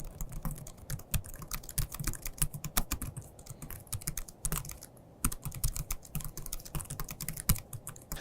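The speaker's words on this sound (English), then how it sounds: "the keyboard is quieter than last year's model" Rapid, uneven tapping of keys on a Surface Laptop 2 keyboard, close and fairly quiet, with brief pauses between bursts.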